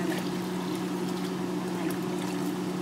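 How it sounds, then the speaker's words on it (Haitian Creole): Red beans being poured into a cooking pot for Haitian-style red beans and rice, a steady continuous pouring rush with a low hum underneath, no talk. "Le poids rouge, je vais mettre là-dedans."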